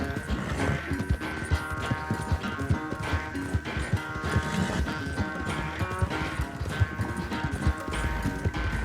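Horse galloping in the Red Dead Redemption 2 video game, a loud, continuous rapid clip-clop of hooves throughout, with a faint whinny.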